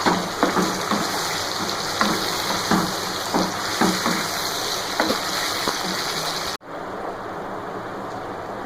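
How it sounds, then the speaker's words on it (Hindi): Beef trotter meat fries with yogurt and spices in a pot, a loud steady bubbling sizzle broken by rhythmic stirring scrapes, then cutting abruptly to a quieter continued sizzle. "गोश्त में हम दही भी शामिल कर देंगे और फिर इसे भून लेंगे।"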